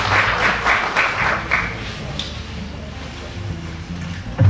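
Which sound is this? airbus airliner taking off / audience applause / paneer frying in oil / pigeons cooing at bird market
audience applause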